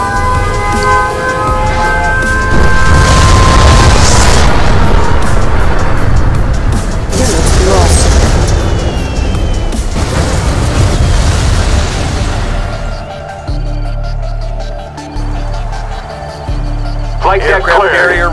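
Nuclear missile detonation in the strategy game Command & Conquer: Red Alert: a long, loud, rumbling blast with crackling bursts that sustains for many seconds, then drops to low droning hum, with game voice announcements over it.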